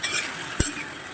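Tomatoes and vegetables sauté in a pan for Pongal sambar, giving a brief soft sizzle with a single sharp stirring scrape midway.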